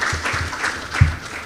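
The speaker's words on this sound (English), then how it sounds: "Please let us give them a round of applause," Applause from a conference audience, a steady broadband patter filling the short moment at moderate level, with a couple of low thumps.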